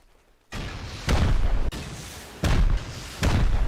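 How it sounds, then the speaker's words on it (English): Rockets slamming into base walls in the video game Rust, four heavy booming blasts in quick succession, each with a sharp onset and rumbling decay, loud and close with no talk. "8 more rockets aimed into 4 walls between the first and second floor will expose 2 rooms on the second floor"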